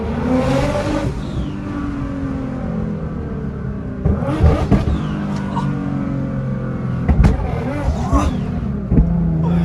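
A 700 hp Nissan GT-R engine revs and roars, with sharp bursts and pops rising over a steady rumble, loud and close.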